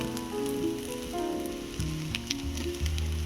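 Kissan sauce poured into a hot pan for egg chow mein sizzles steadily over a few seconds, a close, even crackle with faint background tones and no talking.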